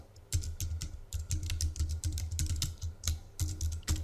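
Rapid typing on a computer keyboard while entering sales tax details in Peachtree 2009 accounting software, steady clustered keystrokes with brief pauses, close and fairly quiet, no talking.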